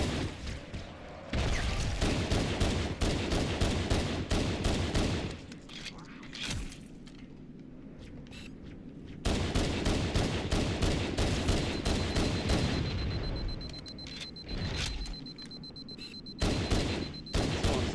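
Rapid gunfire bursts strike the player in Halo Combat Evolved, loud stretches of shooting broken by brief lulls, with a player talking over the action.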